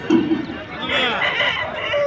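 A rooster crows in a long, strained call close by at a poultry market, following a couple of short clucks at the start.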